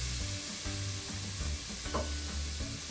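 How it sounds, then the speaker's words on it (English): Onions sizzle steadily in a pot for mutton biryani while being stirred, with soft rhythmic scraping pulses over the constant frying hiss, no speech. "So Eunice will continue to mix that for us."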